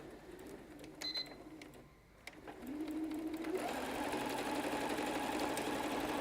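A sewing machine stitching lace for a crafting project, with a dense, steady mechanical whir that starts partway through and runs loud and continuous to the end after a brief quieter pause.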